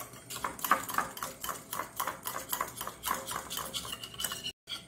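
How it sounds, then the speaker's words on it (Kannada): Curd being beaten with salt in a bowl: a steady run of quick scraping, clinking strokes of a utensil against the bowl, close and fairly soft, with a brief gap near the end. "ಉಪ್ಪನ್ನು ಹಾಕ್ಕೊಂಡು ಸ್ವಲ್ಪ ಬೀಟ್ ಮಾಡ್ಕೊಳ್ಳೋಣ ಇದನ್ನು ಮೊದಲಿಗೆ"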